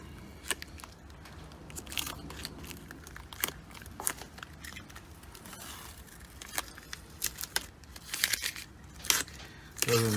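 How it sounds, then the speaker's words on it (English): Blue painter's tape peels off a leather steering wheel in a series of close, crackly ripping bursts, uneven in rhythm, with a louder tearing stretch near the end. "I specifically used this blue painter's tape for a reason, because it comes off real easy"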